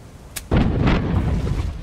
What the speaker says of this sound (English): Port side cannon. Sure. Fire.